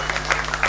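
Brief burst of audience clapping at a Hindi poetry recital, dense and steady, moderately loud and close, with no voice on top.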